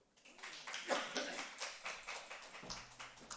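Small group clapping for a child at a church Sunday school or service, a short burst of rhythmic claps rising then settling into a steady patter, close and moderately loud.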